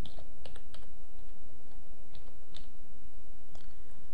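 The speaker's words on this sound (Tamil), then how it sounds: "இங்க ரெஜிஸ்ட்ரேஷன் நம்பர் டைப் பண்ணிக்கலாம்" Typing on a computer keyboard while working in Photoshop: scattered clicks and short bursts of keystrokes, close and moderately loud over a steady background hum, with no talk.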